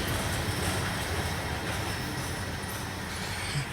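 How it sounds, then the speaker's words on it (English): Loaded coal train cars rolling past on rails, a steady, loud, continuous rumble and rattle of wheels with no pauses. "And there's the end of the train."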